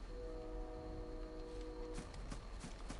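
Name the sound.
train passing nearby, heard in the background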